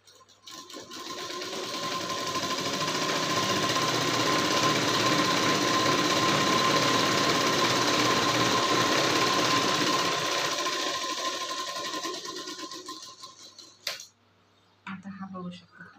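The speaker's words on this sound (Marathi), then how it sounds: "आता या ठिकाणी आपण टिप मारून घेऊ." A sewing machine stitches a prince cut blouse in one long, steady run of rapid mechanical whirring for about thirteen seconds, then stops, followed by a few brief handling noises.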